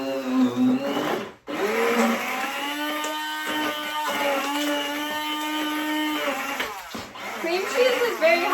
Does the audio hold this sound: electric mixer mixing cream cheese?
yes